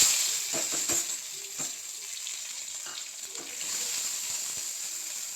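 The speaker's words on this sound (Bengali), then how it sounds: "আবার কড়াতে দিয়ে দিলাম সর্ষের তেল, ফোড়নে দিচ্ছি আবার কালো জিরে আর শুকনো লঙ্কা" Mustard oil sizzling in a kadai with black cumin seeds and dried red chilli tempering, a continuous bright hiss with faint crackles and occasional stirring scrapes, close and steady.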